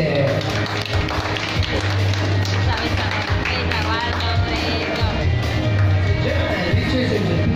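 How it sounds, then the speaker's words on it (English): Dense applause from a crowd at the MMPAA Season 127 recognition ceremony fills the whole stretch, a steady wash of clapping with a low hum underneath and voices talking over it. "Let's give a round of applause"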